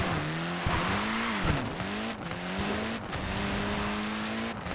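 Tyres on a Mini squeal in Forza Horizon 4, sustained wavering screeches rising and falling over engine noise, loud and close with short breaks between slides.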